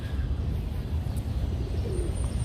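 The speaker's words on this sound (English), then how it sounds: "A lot of pigeons." Pigeons cooing at Central Park in New York City, a low, steady murmur of soft coos mixed into outdoor city background noise, with no clear single call standing out.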